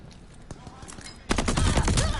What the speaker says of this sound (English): Wow, just keep firing.